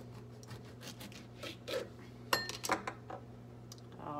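Knife slicing a quarter off an avocado on a kitchen surface, heard as soft scrapes followed by a few sharp clicks and clinks of the blade against the board or plate, close and fairly quiet.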